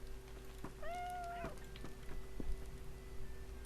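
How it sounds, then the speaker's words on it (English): Cats meow in the town of Bree in the video game LOTRO, one clear drawn-out meow followed by a few shorter mews over a steady low ambient hum, close and moderately loud with no talking. "this place is absolutely full to the brim with cats"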